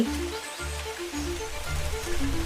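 Heavy rain pours in a constant, loud hiss while soft low musical tones play beneath, no voices present.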